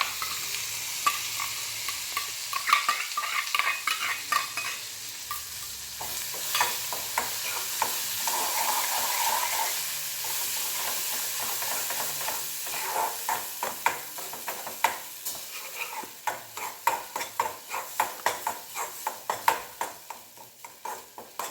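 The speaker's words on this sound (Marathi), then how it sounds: "हे असं मस्त हलवून घ्यायचं तेल सुटेपर्यंत." Ground onion, coconut, ginger, garlic and chili masala frying in oil for egg curry, stirred with a spoon: a steady sizzle under repeated scraping and clinking strokes against the pan, growing more distinct and rhythmic toward the end.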